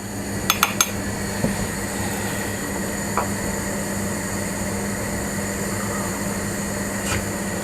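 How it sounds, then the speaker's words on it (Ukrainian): A metal spoon clinks a few times in quick light taps against the inside of a glass jar of marinated mushrooms, then scrapes faintly, over a steady background hum. "Обов'язково ось так ложкою проходимось всередині банки, щоб випустити лишки повітря"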